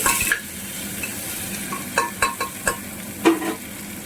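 Tomatoes and green chillies fry in a pan for a ghugni gravy, giving a steady close sizzle with a few sharp clinks and scrapes of stirring toward the end.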